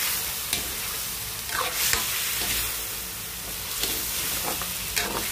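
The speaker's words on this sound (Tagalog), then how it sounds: "haluin ng maigi para mamix ang lasa" Stirring a mixture of crushed pepper, soy sauce and a Knorr cube in a pan, with steady scraping and clinking of a utensil against the pan over a continuous sizzle, with no talking.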